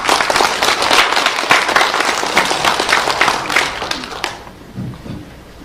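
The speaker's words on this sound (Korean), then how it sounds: "이제 교수님의 말씀을 박수로 모셔 듣겠습니다." An audience at an international peace forum claps to welcome a professor's presentation on Buddhism and East Asia, loud and dense for about four seconds before thinning into a few last claps and fading out.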